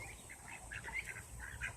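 Ducks and chickens settling in a coop give a low-level stream of soft quacks, clucks and chatter, fairly close, continuous throughout with no talk.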